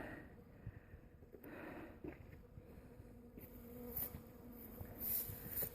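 Bees buzz around a flowering tree while pollinating, a soft continuous hum with a few closer passes, faint and outdoors, with no talking.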